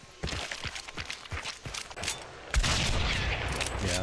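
Gunfire in the Hunt video game, a rapid string of sharp shots through the first half, then a dense, sustained burst of noisy fire that fills the rest of the moment.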